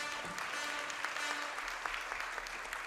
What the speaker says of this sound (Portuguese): queria pedir um aplauso especial a essa mesa repleta de mulheres